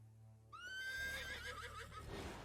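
A horse in the video game Dysplaced lets out a loud, close whinny that rises sharply and trails off over about two seconds, with faint hoof clatter beneath.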